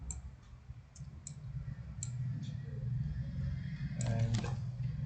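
A few sharp, isolated computer keyboard key presses sound near and crisp over a low background hum, with a brief cluster of clicks toward the end.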